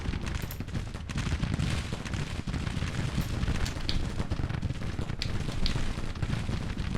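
Dense, continuous musket and rifle fire from massed troops in the Civil War strategy game Grand Tactician, a steady crackling roar of overlapping shots with occasional sharper reports, with no talk.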